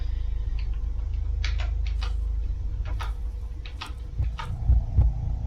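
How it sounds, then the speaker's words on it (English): A steady, heavy heartbeat thumps low and close in Cataclysm: Dark Days Ahead, with crisp ticking clicks above it and a rumble swelling near the end. "Already with the heartbeat."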